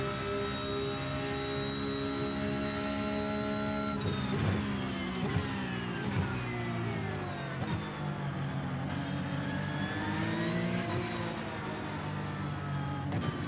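Race car engines in the iRacing video game at the Miami GP circuit, a steady loud harmonic drone whose pitch rises and falls as the car accelerates and brakes through corners.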